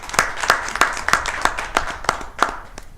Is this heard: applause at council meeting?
yes